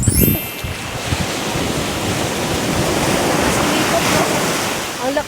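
Waves crash on Unawatuna beach, a loud continuous roar of surf with wind buffeting the microphone and breaking water rushing throughout.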